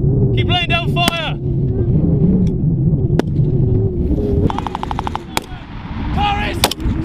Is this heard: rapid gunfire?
yes